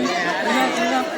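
A dense Sunday crowd at the Jejuri hilltop fort temple of Khandoba: constant overlapping chatter from many voices, close and continuous throughout.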